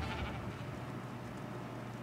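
Sheep bleating in the modded video game ARK, a steady, fairly dense layer of animal calls that runs continuously for about two seconds at low volume.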